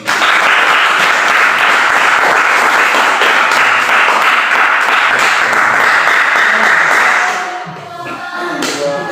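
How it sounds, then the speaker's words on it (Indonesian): A classroom of students gives dense, steady applause that carries loudly for about seven seconds, then thins out and fades to a few scattered claps. "beri aplaus untuk diri sendiri"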